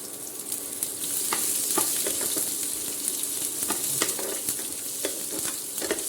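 Onion and peanuts frying in hot oil with cumin seeds and curry leaves: a steady, crackling sizzle with intermittent scraping stirs and small pops, close and continuous.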